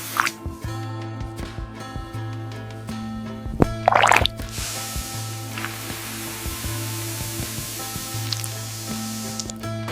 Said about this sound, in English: Water sprays over the tumbling fruit to wash the released oil into a collection trough